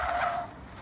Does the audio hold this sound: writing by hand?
no